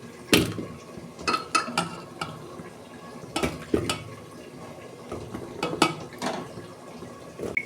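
Washed, cut bottle gourd goes into a pressure cooker, with repeated clanks and metallic knocks of pieces and utensils striking the pot at irregular intervals, close and clear.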